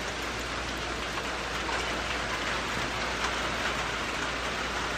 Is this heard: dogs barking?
no